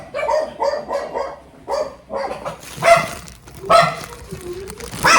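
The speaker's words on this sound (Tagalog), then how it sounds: "Ang ingay ng mga aso." Several dogs barking repeatedly and overlapping, loud and close, with yips mixed in and a busy background.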